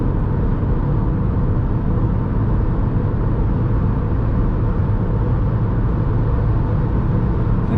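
Inside a Hyundai i10 with a 1.2 MPI engine and 5-speed manual, cruising on a highway at 120 km/h near 3000 rpm, a loud, steady low engine drone blends with road and wind rumble, with no talking.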